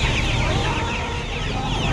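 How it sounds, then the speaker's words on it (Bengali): Small fighter chicken chicks at the Uluberia hen market cluck and cheep continuously in a dense, loud, close chorus against steady market noise. "এটা ফাইটার মুরগির বাচ্চা আছে ছোট সাইজের"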